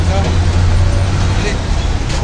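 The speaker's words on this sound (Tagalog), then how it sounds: "ang daming mga malalaking truck na dumadaan" Heavy traffic on a diversion road with large trucks passing, a dense continuous low engine rumble and roadway roar, loud and close, with a brief hiss near the end.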